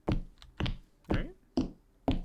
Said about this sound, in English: That is a door, by the way.